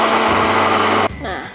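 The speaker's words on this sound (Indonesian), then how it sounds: "Kalau yang ini mau langsung aku blend ke dalamnya." A blender whirs loudly and close while blending yogurt with berries for a yogurt bar, then cuts off abruptly, leaving a short, quieter tail.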